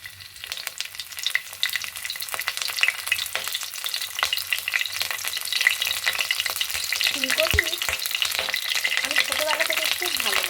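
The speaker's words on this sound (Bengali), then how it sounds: "তেল গরম হয়ে গিয়েছে এবার একটা একটা করে ফুলকপিগুলো দিয়ে দিই" Cauliflower pieces fry in hot oil in a wok, producing a steady, rising crackle and spatter that grows denser as more florets go in, with a brief clatter and faint voice near the end.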